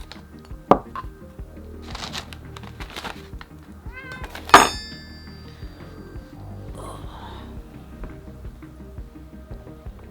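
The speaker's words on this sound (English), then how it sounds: "These cats, I swear to God, there must be some crack in this food because they don't ever care about the table" Cats meowing around a dining table during a meal, a few short meows and one sharp louder cry over quiet clinking and tapping of dishes, with faint background sounds.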